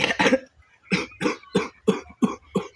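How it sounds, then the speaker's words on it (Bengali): A person coughs in a rapid series, about eight hacking bursts close to the microphone, the first pair tightly bunched and the rest spaced at a steady rhythm with short silences between. "কি হলো গো কাশছো কেন"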